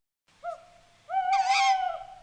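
A cartoon owl hoots in a Hindi animated bird story, first a short hoot, then a longer, wavering call that rises and falls, clear and close with no speech.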